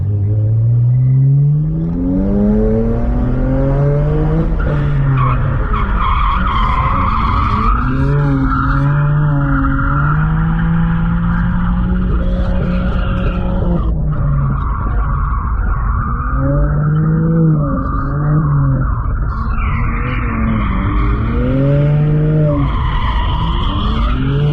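A BMW 335i E92 drifting, its tires screeching in long wailing skids that rise and fall as the engine revs surge and drop, loud and close, continuing for over twenty seconds.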